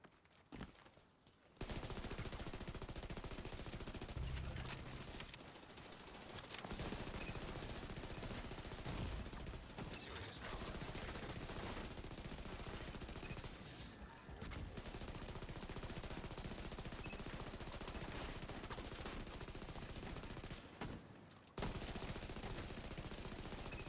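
Continuous video-game gunfire from a fight against a hostile kill squad in The Division 2, with dense, sustained shooting and bursts running almost the whole time and a brief lull near the start.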